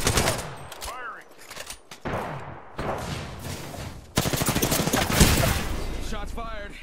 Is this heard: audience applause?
no